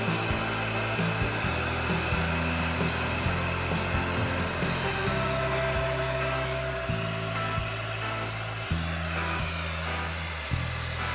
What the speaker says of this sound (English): We're going to use our heat gun to warm up the PVC pipe